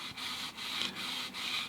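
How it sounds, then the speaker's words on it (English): Steady hand sanding on a smooth nitrocellulose lacquered surface: soft, rhythmic scratchy rubbing strokes, close and quiet, with no voices. "I'm just going to start sanding."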